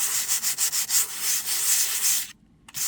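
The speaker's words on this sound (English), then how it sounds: "trying to use a sanding sponge on top of it to get rid of some of that texture" A sanding sponge rubs over a stenciled surface painted with micaceous iron and distress oxide, giving close, rhythmic scratchy strokes in quick pulses, then a brief pause before one more stroke.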